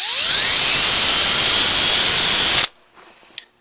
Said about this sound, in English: do your drilling on the upper hole